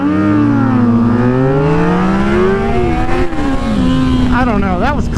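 Motorcycle accelerating hard during a race, loud and close, with a steady engine whine climbing and dipping through the gears and a second engine's pitch weaving in near the end.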